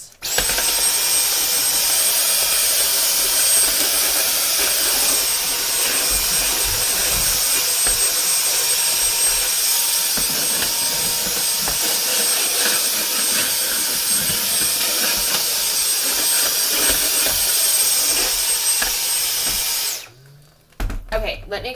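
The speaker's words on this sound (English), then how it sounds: "I'm just going to vacuum this up a little bit" A vacuum cleaner runs steadily and loudly for about twenty seconds while cleaning out a shoe cabinet, a broad constant whoosh that cuts off abruptly near the end, followed by brief handling noise.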